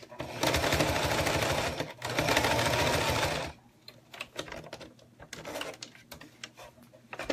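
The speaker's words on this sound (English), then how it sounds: "we're going to do like we do and just top stitch along the edge of the zipper. If my machine will let me." A home sewing machine top-stitches along the edge of a zipper, running in two loud, steady bursts of rapid stitching close by, then stopping for light fabric handling and small clicks.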